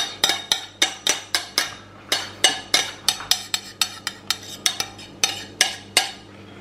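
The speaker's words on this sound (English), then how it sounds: "Stir them up, release that flavour there" A spoon clanks against a pot while callaloo pepper pot soup with seasoning is stirred, a quick run of sharp metallic clinks in an uneven rhythm, close and clear, with a low steady hum beneath.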